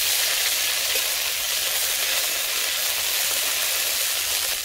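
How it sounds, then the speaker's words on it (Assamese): Ginger frying in hot oil with cumin and mustard seeds gives a steady, bright sizzle that holds evenly from start to finish, close and fairly loud with no other sounds over it. "মই এতিয়া আদাখিনি অলপমান ভাজি ল'ম।"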